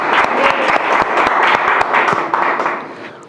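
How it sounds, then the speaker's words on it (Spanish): Congregation applauding in a church after a sermon reading, loud dense clapping from many hands filling the room, steady for about three seconds before tapering off at the end. "Un aplauso al Señor."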